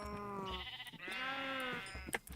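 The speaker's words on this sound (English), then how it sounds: "I'll breed the sheep." Sheep bleating in Minecraft, two drawn-out wavering bleats close up with a short gap between them, clear and alone without talk.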